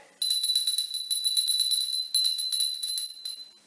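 A small handheld sick bell rings rapidly and continuously, bright and close, with a brief break midway before the jingling resumes.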